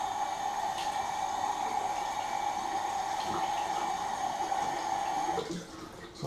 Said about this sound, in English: So some nice hot water on there.